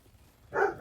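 A dog gives a single short bark indoors after a brief quiet moment, moderately loud and slightly distant.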